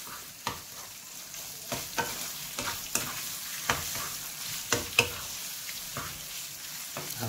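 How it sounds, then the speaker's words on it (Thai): Squid eggs being stir-fried in a hot pan for a dish made with roasted chili paste. A steady sizzle runs throughout, broken by regular sharp scraping strokes of the spatula about every half second to second, close and clear, with no talking. "ขอผัดแป๊บนึงนะครับผม"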